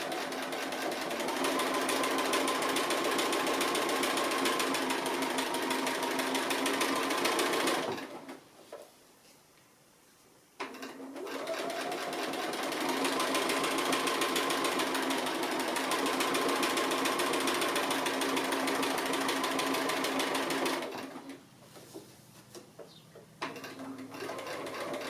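Sewing machine stitching around the edge of an applique piece in a sewing room, running in two long steady whirring bursts with a short pause between them, close and alone without talk.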